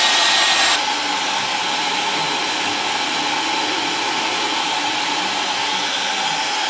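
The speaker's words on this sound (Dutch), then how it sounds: "moet je eigenlijk blazen op je wimpers. Met je haardroger" A hair dryer blowing on eyelashes after mascara, running loud and close as a steady whooshing motor roar that holds throughout after a brief change at the start.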